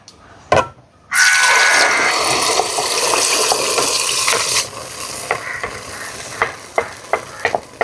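Blended carrot poured into hot ghee hits with a sharp, loud sizzle after a brief knock and pause, then steady frying hiss that fades around midway into a series of distinct spoon taps and stirring clinks against the pan.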